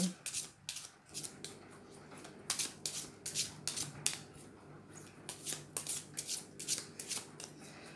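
Deck of tarot cards being shuffled and cut by hand, a quick series of soft riffling and slapping bursts, close and fairly quiet, with faint murmuring voices.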